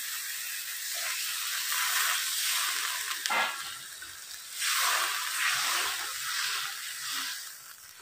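Vegetables frying in a pan in a home kitchen, a loud continuous sizzle that swells and dips as they are stirred, with a brief clatter midway and no voices.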